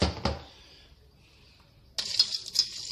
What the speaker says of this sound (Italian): Ora prendiamo la nostra pasta, la buttiamo tutta quanta